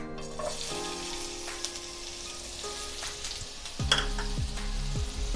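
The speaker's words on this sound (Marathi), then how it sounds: "त्याच पॅन मध्ये आपण 1 टेबलस्पून तेल गरम करून घेतलेला आहे। त्यावरती आपण उभा चिरलेला कांदा टाकून घेतोय।" Sliced onion frying in a tablespoon of hot oil in a pan, a bright steady sizzle that flares louder partway through with spatula scrapes and a faint tonal hum underneath.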